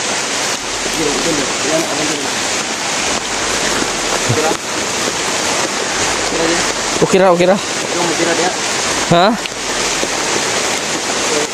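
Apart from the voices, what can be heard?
heavy rain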